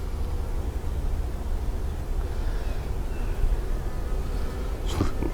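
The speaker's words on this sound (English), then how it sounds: "Not many bees in this one." Honey bees buzz softly in an opened hive with few bees inside, a low, steady drone close by, with a brief brighter sound near the end.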